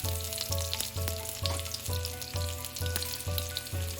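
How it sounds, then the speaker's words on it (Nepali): Green chillies and garlic cloves fry in a pan for a Nepali potato and pea pickle, a continuous close sizzle running under a regular low thumping pulse, with no voices. "मैले यसमा फुराएँ 2टा हरियो खुर्सानी र 3वटा जति लसुनको पोचीलाई यसरी राखेँ।"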